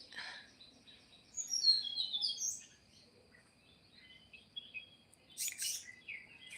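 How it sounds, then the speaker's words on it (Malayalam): Soft, scattered bird chirps at a distance in the early morning, in a few short bursts over a quiet outdoor background, with birds in the tops of coconut trees. "കിളികളെ ശബ്ദം"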